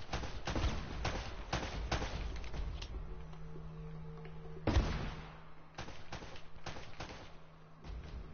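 Rapid bursts of gunfire in the video game Uncharted 1, with dull thuds and booms, dense and continuous, one heavy blast standing out midway, over a low droning hum.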